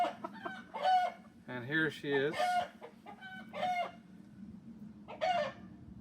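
A black Silkie hen clucks in short, repeated bursts close by, while a person talks over and between the calls.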